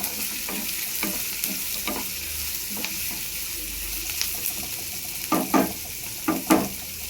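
Onions sauté with a little salt in a pan for potato puttu: a constant soft sizzle broken by repeated spatula scrapes that grow louder near the end, with no voices.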